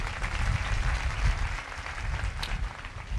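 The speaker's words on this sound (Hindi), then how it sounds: "जोरदार तालियां बजाएं" A crowd applauds steadily, a dense wash of clapping that holds for a few seconds with no voices over it.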